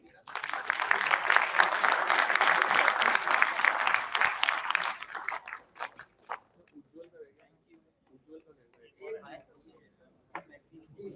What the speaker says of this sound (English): I request everybody for please applause